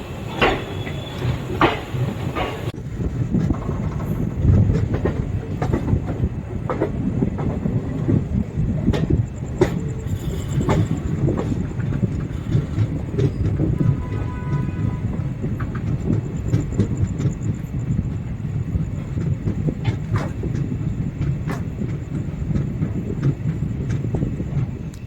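Jamalpur Howrah Super Express running on rails near Barharwa Junction, a steady low rumble of wheels and carriages with faint rhythmic clicks throughout, continuous and close, no talking.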